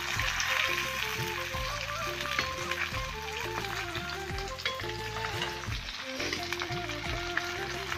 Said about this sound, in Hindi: मछली तल रहा है, उसको देखो।